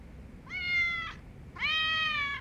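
A cat in the video game Lost Judgment gives two clear, drawn-out meows, the second longer and louder, against a quiet low background hum.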